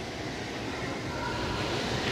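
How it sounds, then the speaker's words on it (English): A train rumbles past near the Avenues Mall outdoors, a steady, broad roar that holds loud and even for the whole stretch with no voices over it. "I think the train is a-coming, too, here at the Avenues Mall"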